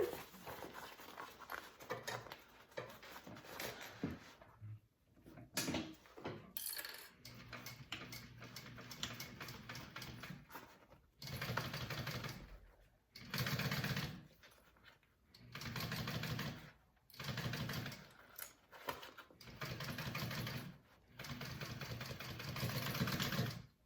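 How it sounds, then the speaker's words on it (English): A sewing machine stitches up a fabric pouch in repeated bursts of rapid mechanical chatter, each run lasting a few seconds and separated by short pauses, close by. "I'm gonna sew that up and we're done."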